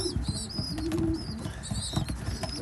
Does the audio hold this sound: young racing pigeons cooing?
yes